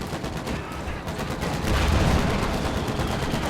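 Gunfire in the Company of Heroes 2 strategy game, a rapid crackle of shots and bursts swelling midway into a louder barrage, heard alone without talk.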